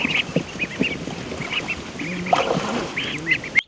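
Ducklings being released onto ponds in Abazivka, Ukraine, peep and quack in quick, high-pitched bursts, several birds calling close by over a soft outdoor background.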